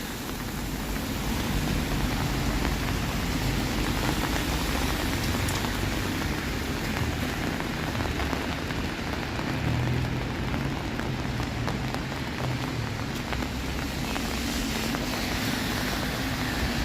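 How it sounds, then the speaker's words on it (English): Steady rain falls on a downtown Toronto street on a soggy late-December evening, a dense continuous hiss and patter with a low city rumble beneath and no pauses. "Back out into the rain."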